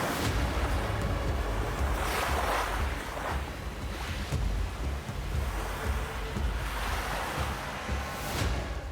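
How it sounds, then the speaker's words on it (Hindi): Waves in the Arabian Sea slap and surge against a moving boat, loud rushing swells breaking in repeated bursts over steady wind and engine rumble. "लहरें अचानक से तेज हो गईं।"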